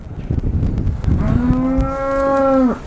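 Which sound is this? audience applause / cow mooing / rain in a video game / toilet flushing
cow mooing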